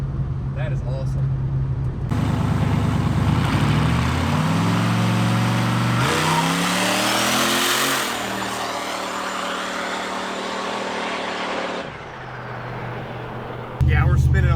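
A turbocharged police car roars and revs hard under heavy acceleration, its loud engine note rising and shifting through gears with a sharp wastegate whoosh, close and sustained, while people talk excitedly over it.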